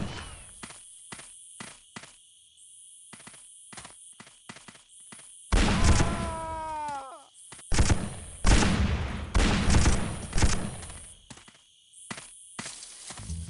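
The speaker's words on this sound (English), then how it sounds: "A beast though, the classic M60." An M60 machine gun in Line of Sight: Vietnam, a 2003 war shooter, firing in short rattling bursts between quieter footstep-like ticks, loud and close, with no talking.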